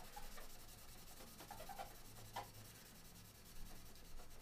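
Fine steel wool rubs over guitar frets on a fretboard, producing a faint, steady scratchy hiss with a few slightly louder strokes.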